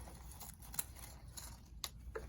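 Scissors snip the ribbon ends on a patriotic grapevine wreath bow, making a few very faint, close, crisp clicks in near silence.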